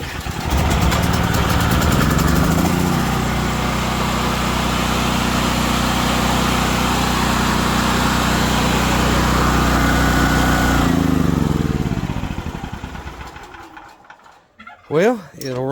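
A portable generator engine converted to run on propane runs loudly at a steady idle, then winds down and stops, followed by a few faint clunks.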